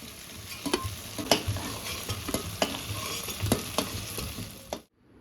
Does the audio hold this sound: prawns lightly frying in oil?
yes